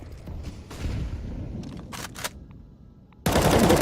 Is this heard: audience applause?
no